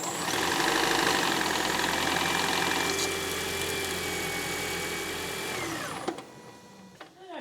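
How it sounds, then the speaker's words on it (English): A 2016-2023 Toyota Prius engine starts and runs after an oil and filter change, a steady close idling hum that fades and cuts off after about six seconds, followed by a few light clicks. "And then I'm going to start the engine for about 40 seconds or so."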